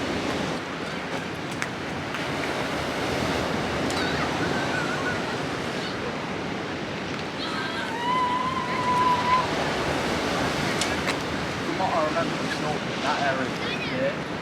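Choppy sea surf rolls continuously at Freshwater Bay on the Isle of Wight, a steady broadband wash of waves with wind buffeting the microphone throughout.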